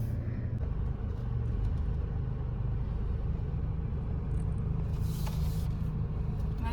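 A car driving along a sandy beach, with a steady low engine rumble and tire noise throughout, close and continuous, plus brief higher hiss bursts near the end.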